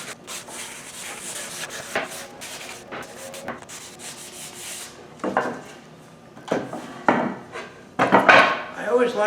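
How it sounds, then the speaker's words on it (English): Wooden timbers being sanded by hand for kitchen parts give close rubbing and scraping strokes in irregular bursts, with a few knocks and rattles between them. "I'm just going to sand these things real quick."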